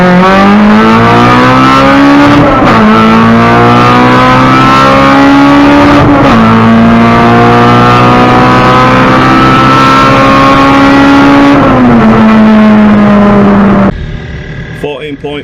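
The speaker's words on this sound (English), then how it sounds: "It was just wheel spinning." A K-swapped Honda Civic engine screams loudly through a drag launch with wheelspin, pitch climbing and dropping through several gear changes before cutting off near the end.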